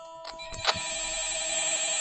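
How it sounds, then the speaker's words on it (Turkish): An in-game telephone rings in Five Nights at Freddy's, a steady electronic ring sustained across the clip with a few soft thumps near the start. "yine telefon çalıyor"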